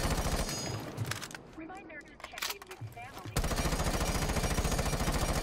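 Rapid bursts of rifle fire from Ace's gun in Rainbow Six Siege, a loud fusillade at the start, then quieter game sounds, then a sustained stream of sharp automatic shots to the end.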